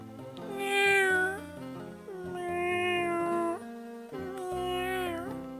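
A person imitates a cat's meow three times, drawn-out tonal mewing calls with rising and falling pitch, close and loud, alone without other talk.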